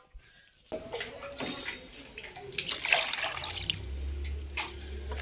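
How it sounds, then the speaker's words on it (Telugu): Broad beans washed under a running kitchen tap: close splashing and trickling water with irregular bursts as the pods are rinsed by hand. "ఇప్పుడు ఈ చిక్కుడుగాయల్ని కడుగుతాను"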